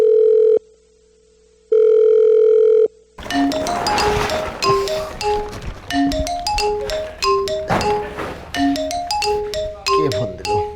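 A telephone gives two long steady tones, then a loud, close, bright melodic ringtone repeats its chiming pattern over and over.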